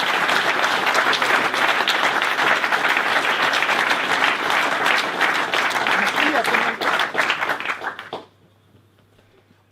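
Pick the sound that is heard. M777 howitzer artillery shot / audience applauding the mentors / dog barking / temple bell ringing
audience applauding the mentors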